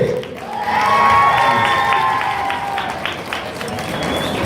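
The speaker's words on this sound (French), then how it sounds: "On applaudit bien fort, s'il vous plaît" An audience at a cosplay contest in France claps and cheers loudly in a sustained wash of applause, with whistles and shouts rising above it.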